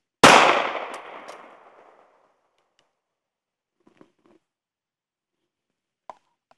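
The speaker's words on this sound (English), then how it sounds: "slowly pulling the trigger to the rear, waiting for the reset, pulling again." A single loud pistol shot rings out at an outdoor shooting range, its sharp crack decaying over about two seconds, followed by a few faint metallic clicks and handling noises.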